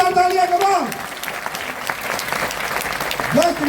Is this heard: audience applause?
yes